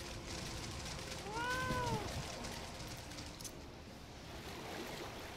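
A cat meows inside Final Fantasy XIV, one drawn-out rising and falling call near the middle, heard over a steady bed of flowing water and ambient game sound.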